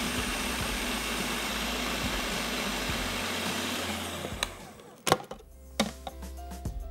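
An electric grinder whirs loud and steady as it blends garlic, ginger and onion with water into a fine paste, then cuts off after about four seconds, leaving a few soft clicks and knocks.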